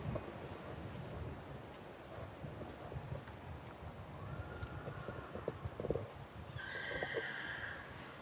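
A horse moves toward a cross rail in an arena, giving soft irregular hoof thuds and some scuffing under a faint outdoor background, with a short whinny-like tone near the end.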